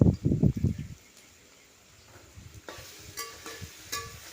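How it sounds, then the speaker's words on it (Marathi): Onion, ginger-garlic paste and green chilli sautéing in the tempering for a pulao, with loud stirring scrapes at the start, then a quieter sizzle and light utensil clicks toward the end. "कांदा आलं लसूण पेस्ट व हिरवी मिरची हे पण छान आपल्याला परतून घ्यायचं आहे"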